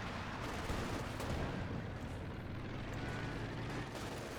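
Company of Heroes 2 battle audio: tank cannon blasts and gunfire, a dense burst of rattling shots and booms heard at moderate level, without clear talk.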